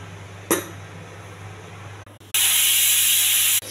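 A pressure cooker of dal on a stove lets out a loud, steady hiss of steam for over a second after a sharp metallic clink, with no talk.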